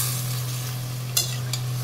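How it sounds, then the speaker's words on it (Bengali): Chicken being sautéed with spice masala in a pan, a soft steady sizzle over a constant low hum, with two brief spatula scrapes near the end. "এই যে মাংসটা দিয়ে কষানো চলছে"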